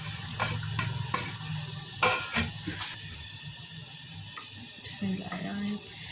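Onion and garlic drop into a hot pot and start to sizzle, with a steady frying hiss, spoon stirring scrapes and occasional clatter of utensils.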